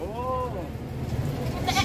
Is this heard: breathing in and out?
no